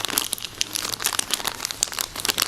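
A sheet of cloth material folded over into a pad for car paintwork cleaning, giving close, busy crinkling and rustling in quick irregular bursts, with no talk.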